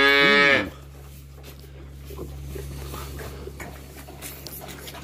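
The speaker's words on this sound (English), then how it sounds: "First four little ones are making some bawling noises." Young farm calves bawl loudly at evening milking, one strong drawn-out moo at the start followed by quieter shuffling, low machinery hum and faint farmyard sounds.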